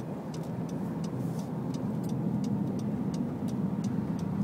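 Road traffic at an intersection near Interstate 20 in Arlington, Texas makes a continuous dense roar of passing cars, loud and unbroken, with faint ticking above it and no voices.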